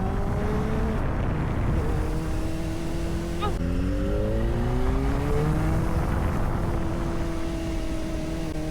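Kawasaki ZX-4RR motorcycle ridden through city streets at modest speed, a steady close engine drone with rising pitch sweeps as it accelerates through the gears, continuous throughout.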